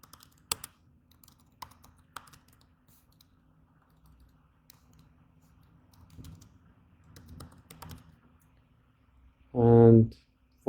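Scattered keystrokes on a computer keyboard tap out a password in short irregular bursts, quiet and close, followed by a brief burst of speech near the end.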